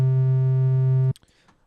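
A synthesized triangle wave holds a steady low tone with a ladder of fainter odd harmonics above it, loud and sustained for about a second before cutting off abruptly into a few faint clicks.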